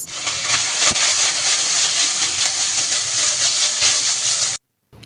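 Minced meat hits a hot pan with garlic and ginger for a wonton filling, producing a loud, steady, close sizzling hiss that runs without a break and then cuts off abruptly, with no one talking.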